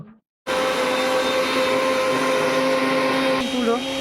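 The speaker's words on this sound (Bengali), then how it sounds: "এবার আমরা মিক্সিতে দেব মুড়ি দিয়ে মুড়িগুলো গুঁড়ো করে নেব।" A mixer grinder powders puffed rice for coconut laddu, starting abruptly after a brief moment of quiet and then running with a loud, steady, high-pitched whir close by, with a slight change in pitch near the end.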